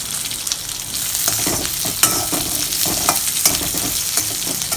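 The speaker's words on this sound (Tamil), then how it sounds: "அப்புறம் சின்ன வெங்காயம். எல்லாமே லைட்டாக வதங்கினா போதும்." Shallots and vegetables sautéing in a pan for Tirunelveli sodhi, a loud close sizzle with repeated scraping and stirring knocks of the spoon against the pan, no one talking.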